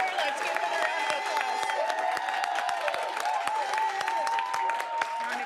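An audience at a school board of education meeting claps for a young reader, steady broadband clapping with scattered sharp hand-claps over a sustained musical tone, continuous and moderately loud throughout.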